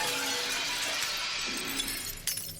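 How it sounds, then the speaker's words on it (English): Window glass in a control room shatters in a sudden loud burst of breaking and crashing, with scattered pieces tinkling and settling over the next couple of seconds. "the control room window shattered, obliterating the images of space I thought I'd seen"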